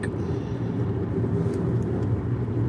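Road traffic going by, a loud, continuous low rumble of engines and tires that stays steady without clear breaks and carries no speech.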